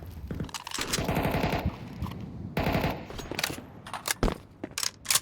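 Mag 7 shotgun in Counter-Strike 2, a match played as an esports game, several loud gunshot blasts among bursts of rapid gunfire, with shots scattered irregularly and some overlapping.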